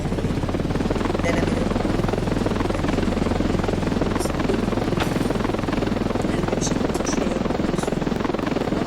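A video game helicopter's rotor chops steadily and loudly throughout as it lands and takes off, a continuous thumping drone with a few faint high clicks layered on top.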